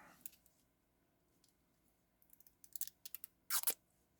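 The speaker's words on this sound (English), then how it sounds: "Hopefully you can hear the stickers coming off." Protective stickers peeled off a FORZO Drive King Limited Edition Miami Yellow watch, close and quiet, a series of short crisp tearing and crackling bursts, the loudest near the end.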